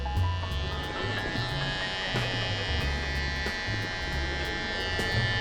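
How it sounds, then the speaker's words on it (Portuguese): A GBS hair finishing trimmer buzzes steadily and close for several seconds during a taper fade haircut, its electric motor hum holding even with slight pitch shifts as it moves. "Vou estar utilizando a máquina de acabamento da GBS"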